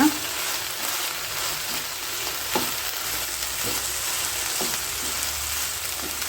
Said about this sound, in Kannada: ಇವಾಗ ಇದನ್ನು ಚೆನ್ನಾಗಿ ಮಿಕ್ಸ್ ಮಾಡೋಣ